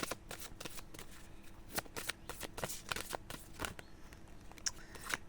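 An oracle card deck is shuffled by hand at close range, producing rapid, irregular riffling flicks and soft slaps that come in quick bursts with no talking.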